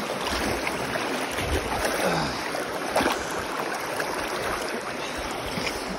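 River water rushes and churns steadily around a hiker wading across a cold river, a dense, close broadband roar with no voices.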